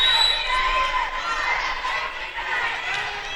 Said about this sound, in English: Not as big as last Wednesday night for the home opener, but it is a big crowd nonetheless